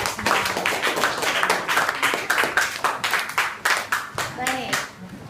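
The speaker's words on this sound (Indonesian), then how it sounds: "tepuk tangan sekali lagi" Schoolchildren in a classroom clap after a group presentation, a few seconds of brisk, uneven applause mixed with children's voices, followed by a teacher's voice.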